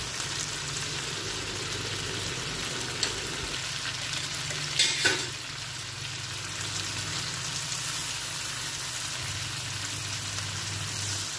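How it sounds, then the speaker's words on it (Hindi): Mutton shinwari karahi sizzles and fries in a pan, a steady crackling hiss with a few sharper pops and a brief clatter of stirring midway. "विद नेचुरल सिजलिंग साउंड के साथ"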